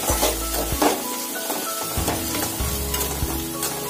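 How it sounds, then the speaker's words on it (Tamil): Chopped tomatoes sautéing in a pan for mutton kola urundai kulambu, a loud, close, continuous sizzle and frying hiss with scraping stirs mixed in. "இப்ப தக்காளியை கொட்டி வதக்குங்க."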